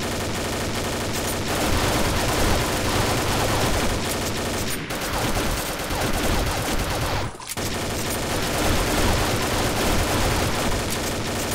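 Sustained bursts of automatic gunfire from the online shooter game Combat Arms Reloaded, loud and dense with rapid overlapping shots for nearly the whole stretch, briefly dropping out twice before resuming.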